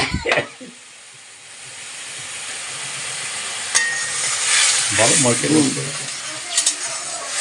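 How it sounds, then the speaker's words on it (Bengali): Fish curry masala with green chillies is stirred and sautéed in a pan, a soft steady sizzle and hiss with a few sharp clinks of a utensil against metal, close by and without speech. "এই যে আমি ভালো করে এটাকে এখন কষে নিচ্ছি"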